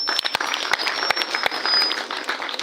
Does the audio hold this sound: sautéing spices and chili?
no